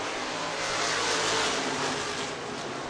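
An IMCA race car accelerates hard at Stuart International Speedway, a distant, broad engine roar swelling and fading over about three seconds amid open-air track noise.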